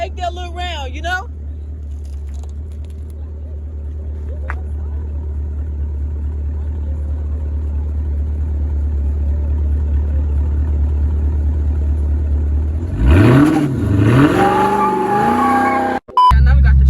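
Dodge Scat Pack engine idling in a steady low rumble that slowly builds, then revs hard as the car slides with rising and falling tire squeals near the end, with people talking throughout.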